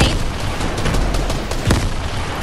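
Grenade blasts in a multiplayer shooter video game, a dense run of loud booming explosions rolling over each other for a couple of seconds with no talk.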